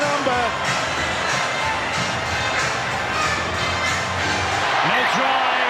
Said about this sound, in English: listen to the groans from the red and white, and the cheering from the blue and amber